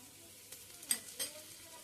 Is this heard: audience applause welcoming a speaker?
no